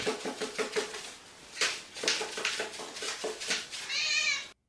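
A male cat meows repeatedly in short rhythmic cries while his rump is patted, ending in a louder, drawn-out meow, close and clear with no talk.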